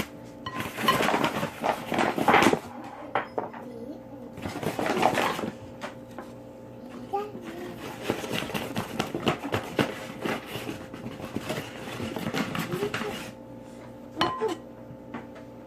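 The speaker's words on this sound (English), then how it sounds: "Now I'm going to take 2 cups of flour and sift them on top." Two cups of flour sifted over beaten eggs, heard as irregular bursts of close metallic rattling and clinking, pausing briefly between rounds.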